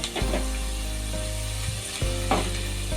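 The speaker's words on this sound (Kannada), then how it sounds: "ಈಗ ಈರುಳ್ಳಿ ಎರಡು ನಿಮಿಷ ಫ್ರೈ ಆಗಿದೆ" Sliced onions frying in oil for egg biryani give off a steady, loud sizzle, broken by a few scraping stirs of a utensil against the pan.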